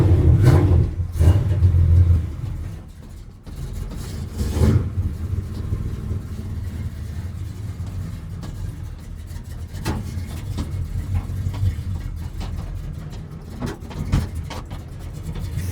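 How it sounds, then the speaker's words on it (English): A carbureted car engine turns over after a carburetor adjustment, roaring in low rumbling bursts, briefly dropping, then settling into a steady, close idle of around 1,000 RPM with occasional small surges. "I got it warmed up and it's sitting there idling"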